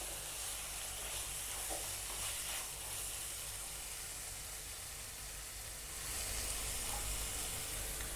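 Capsicum with salt is stirred in a pan as it fries, giving a continuous, fairly steady sizzle and hiss with faint scraping from the stirring, and no talking.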